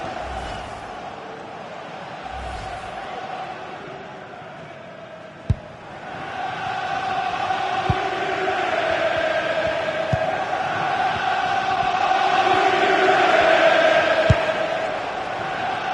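Stadium crowd noise from the FIFA 26 football video game, a broad sustained roar that swells and builds toward the end, broken by a few sharp thumps, with faint commentary-like voices early on.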